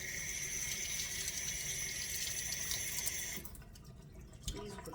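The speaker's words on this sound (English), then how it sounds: "Just rinse these off." Asparagus spears being rinsed under a kitchen tap, a steady hiss of running water for a few seconds that then drops to quieter splashing and handling, close and moderately soft.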